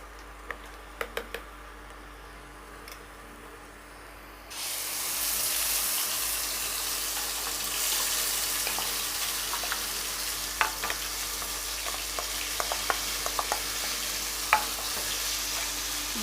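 Pointed gourd paste dropped into hot oil with black cumin, bursting into a loud steady sizzle after a few faint clinks, with scattered spoon scrapes and pops over the continuous frying hiss.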